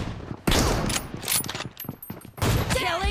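Gunfire in PUBG Mobile, including AWM sniper rifle shots, comes as several sharp, loud cracks and bursts with mechanical clicks between them, mixed with brief bits of other game noise.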